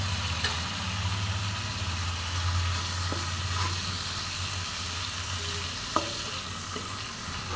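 Ground spices sizzling and frying in a pan for a Bengali cabbage and bori dish, with steady stirring and scraping throughout, close and continuous, one sharp knock near the end.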